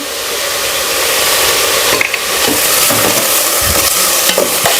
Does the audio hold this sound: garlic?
yes